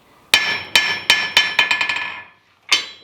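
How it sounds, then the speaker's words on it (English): A ball peen hammer held loosely bounces on a steel anvil under repair: a series of bright metallic rings that speed up and fade as the bounces shorten, then one more separate strike at the end. "We're not even getting a mark from that hammer hitting it"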